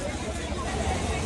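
Busy D-Mart store crowded with shoppers, a continuous indistinct babble of many voices filling the space at moderate level.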